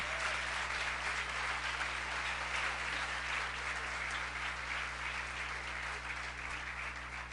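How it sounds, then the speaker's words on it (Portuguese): A church congregation applauds during a sermon, a dense and continuous wash of many hands clapping at once that holds steady and fairly loud throughout, with no one speaking. "Pode aplaudir o Senhor, porque isso é profético."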